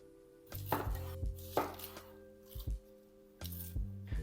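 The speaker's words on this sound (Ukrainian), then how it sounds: "займемося цибулею, чистимо її та нарізаємо півкільцями" A knife cutting onion into half rings on a board, a few crisp, separate chops in uneven bursts with short pauses between them, heard close over a low musical background.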